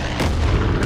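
A bomb dropped from an aircraft in Far Cry 5 goes off with a loud, low booming blast. A deep rumble keeps rolling for the full second, and a second burst hits near the end.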